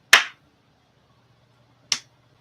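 Two sharp hand slaps, made by hand to imitate a face slap, each a crisp close crack separated by nearly two seconds of quiet.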